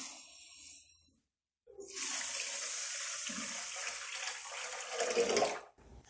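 Water poured from a container into a pan of sugar to start a syrup for gulab jamun, a steady splashing pour lasting several seconds after a brief pause, close and clear, no talking.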